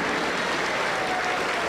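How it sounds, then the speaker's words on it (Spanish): A Pentecostal church congregation in Huancayo claps steadily together during worship, a close, even wall of hand clapping with no break and no clear speech. "aplauda para el Señor, todos contentos, alegres"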